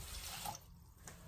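Water poured into rice for venn pongal, a steady broadband rush of liquid filling a vessel, close and fairly quiet, no speech.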